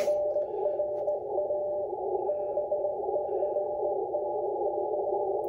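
Amateur radio Morse code from a distant station in France, heard as a steady train of on-off tone keying over faint receiver hiss, moderately quiet, with no talking.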